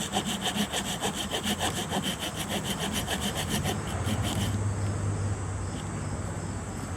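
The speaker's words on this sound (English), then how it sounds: "make a second cut and cut this smaller part in half, all the way down to your inch to an inch and a half where you left off" A plastic 2-liter bottle is cut into strips: rapid, even rasping strokes run for about four seconds and then stop, leaving quieter handling noise. Nobody speaks.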